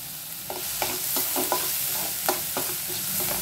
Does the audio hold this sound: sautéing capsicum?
yes